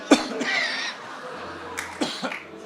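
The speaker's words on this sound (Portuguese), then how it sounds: "Vou tossir para ela ficar com pena de mim." A single sharp cough near the start, followed by breathy throat noises and a couple of softer coughs or clearings later on.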